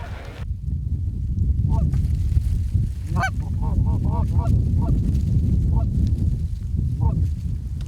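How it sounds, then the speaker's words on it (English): Geese honking repeatedly as a group flies in to decoys during a Michigan waterfowl hunt, the calls fairly clear over a steady outdoor wind-like rumble. "we had one group of geese that just came in"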